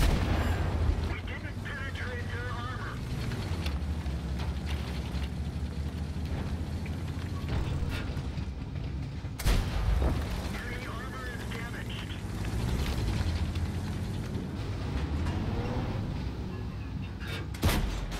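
Tank gun shots from an E-50M in World of Tanks gameplay, heavy booms and rumbling engine noise throughout, with a sharp blast near the middle and someone talking over the battle.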